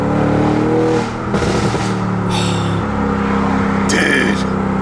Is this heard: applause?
no